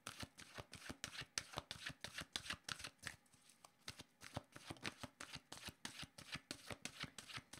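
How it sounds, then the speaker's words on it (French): Oracle cards shuffled by hand in steady rapid riffles, a dense train of crisp papery flicks running nearly throughout with one brief lull, close and fairly quiet, no talk. "je vais demander une carte de mon oracle de l'âme intuitive"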